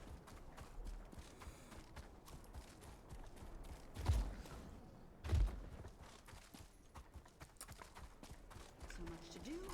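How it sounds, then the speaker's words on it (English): Horses at a stable in the video game Elder Scrolls Online clop and shift restlessly, with two louder thumping hoof impacts standing out over a constant busy ambient bed. "The horses are restless"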